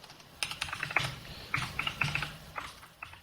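Keys clatter in quick irregular bursts of typing on a nearby keyboard, with short pauses between clusters of clicks.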